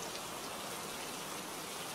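Rain falls steadily, a dense even hiss of drops spread across the whole two seconds with no other sounds over it.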